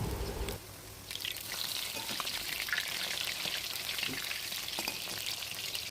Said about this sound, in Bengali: এরপর কড়াইতে তেল গরম করে মাংসগুলো সব ভেজে নিয়েছি